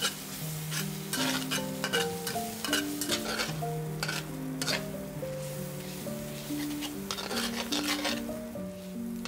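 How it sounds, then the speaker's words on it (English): Herb paste sizzling as it toasts over medium heat in a pan for braised pork and egg stew, with a utensil repeatedly scraping and stirring at close range in a busy, irregular rhythm. "On medium heat, let's toast up the herb paste."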